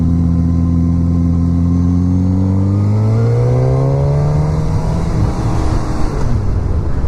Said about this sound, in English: Let's do a third gear pull from 44